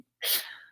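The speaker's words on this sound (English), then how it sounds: "the first thing that he does when he sits down is just sneeze" One person lets out a single sharp, breathy sneeze, close and loud, with a quick burst that fades within half a second after a brief silence.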